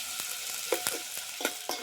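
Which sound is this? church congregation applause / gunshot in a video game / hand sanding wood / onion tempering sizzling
onion tempering sizzling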